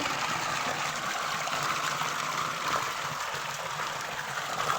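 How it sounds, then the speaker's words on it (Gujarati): Water flows steadily from the mouth of a cow statue fountain at a shrine, a constant broadband gush and trickle that holds even and alone throughout. "ચોવીસ કલાક ગાયના મોઢામાંથી મેં પાણી નીકળે છે"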